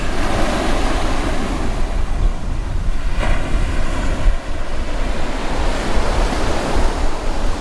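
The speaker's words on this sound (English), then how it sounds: "enjoy the waves" Ocean waves roll in at a surfing spot at Ewa Beach on O'ahu's southwestern side, a loud, continuous surf wash with steady wind buffeting the microphone and no voices.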